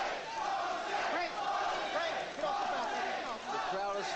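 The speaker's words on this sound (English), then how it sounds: "Crowd taking up a chant of Jose." Boxing crowd at a 1986 heavyweight bout chanting a fighter's name, a loud, dense roar of many voices rising and falling in a steady rhythmic chant throughout.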